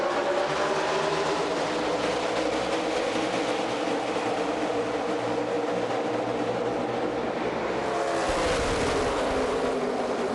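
NASCAR Xfinity Series race cars roar around Chicagoland in a continuous, loud, dense engine wash. The sound holds steady throughout and shifts slightly toward the end as the pack passes.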